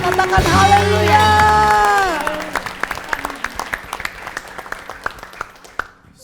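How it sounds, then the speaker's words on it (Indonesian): Congregation at an Indonesian church Christmas celebration bursts into applause and cheering, with clapping under sustained sung or shouted voices at first, then thinning into scattered individual claps. "sorak-sorai tepuk tangan bagi Allah kita"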